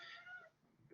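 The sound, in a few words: cat meowing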